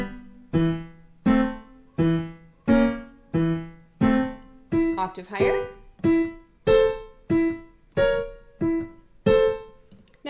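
Piano plays the Sugarplum Fairy pattern with an E placed between each third: a steady run of about fourteen evenly spaced notes, clear and close. An octave-higher passage comes briefly near the middle, and one short spoken phrase is heard.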